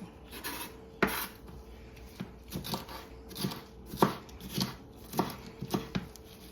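A knife chops red peppers and jalapeno on a cutting board in a home kitchen, quiet, irregular taps and scrapes repeating every half second or so, close by and without speech.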